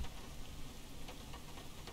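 Steady, soft rain in a flight simulator game at an airport, with a constant hiss and faint patter, no voices, continuing evenly throughout.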